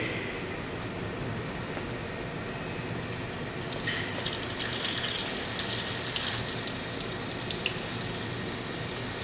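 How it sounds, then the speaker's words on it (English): Water rushes steadily from a Watts 957 reduced pressure backflow assembly as its test gauge is pressurized and bled, a continuous hiss that grows louder and brighter about four seconds in, with no talking. "Pressurizing and bleeding our gauge."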